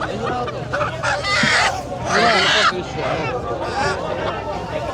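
Chickens and roosters at a busy riverside village market, faint clucks and calls mixed into a steady crowd hubbub with people talking throughout.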